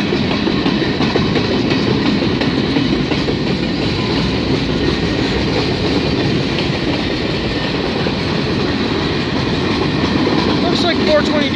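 CP freight train 422, loaded with picked-up cars, rolls past at Bronte Street with a steady, loud rumble and rhythmic clickety-clack of wheels over rail joints, continuous throughout with faint speech underneath.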